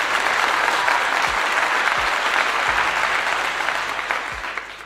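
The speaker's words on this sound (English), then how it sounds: "Clap to you." Steady, dense applause from an audience in a livestream-style show, loud and continuous throughout with a few low thumps scattered beneath it, no speech on top.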